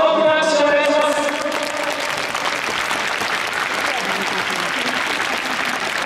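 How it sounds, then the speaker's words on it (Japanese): Big applause for the players at a Japanese football club's crowdfunding thank-you day event, a loud, continuous crowd clapping that rises under a fading voice at the start and then carries on alone. "それでは選手の皆さんに今一度大きな拍手をお願いします。"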